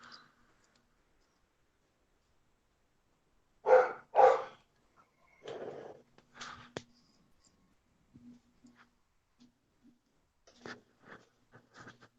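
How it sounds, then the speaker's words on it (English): A dog barks twice in a quick pair, fairly near, followed by a few scattered quieter yips and clicks amid near silence. "I heard the dog answering"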